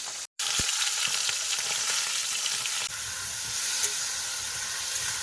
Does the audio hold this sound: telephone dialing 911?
no